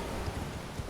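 A horse trots in with rhythmic hoof clip-clops in the Elden Ring video game, a few quick beats over a dense, loud layer of game background noise.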